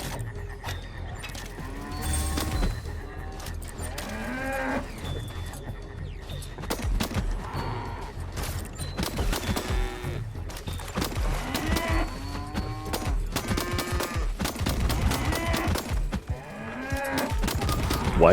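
Cows moo repeatedly in the video game Far Far West, with overlapping low calls from several animals amid bursts of rapid gunfire and game noise.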